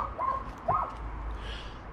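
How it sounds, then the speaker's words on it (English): A neighbouring dog barks twice, faint and distant, with the sharp calls heard from some way off over a low steady background rumble. "Next door's dog is barking away."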